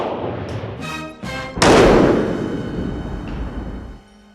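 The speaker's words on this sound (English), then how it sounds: "We're gonna shoot it some more." A Taurus G2C pistol fires at a range, several sharp reports in quick succession, with the last and loudest shot ringing out and decaying over a couple of seconds.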